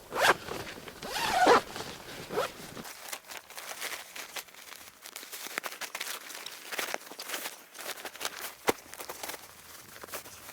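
A zipper on a Rinehart Rhino archery target bag is pulled in quick rasping strokes up close, followed by softer rustling and handling sounds of fabric.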